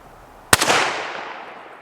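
A single sharp report from a suppressed Ruger American Ranch rifle in 300 Blackout, fired outdoors at a golf ball target about 20 yards away, with a short echoing decay trailing off afterward.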